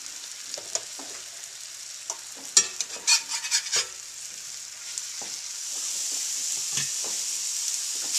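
Shiitake mushrooms sizzle in about a tablespoon and a half of butter in a pan, a steady bright hiss with clattering utensil stirs and scrapes clustered in the middle, the frying swelling slightly louder toward the end.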